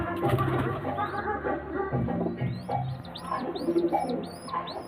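Pigeons being shown for sale in Ashok Nagar coo in low, rolling tones, with lighter chirps and twitters from other birds mixed in, steady and close throughout.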